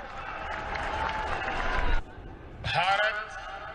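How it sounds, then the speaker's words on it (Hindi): Loud applause from an audience thanking the Prime Minister at a Vijayadashami event, a dense clapping wash that breaks off briefly partway and then resumes, with voices mixed in. "प्रधानमंत्री जी का धन्यवाद करने के लिए जोरदार तालियों के साथ"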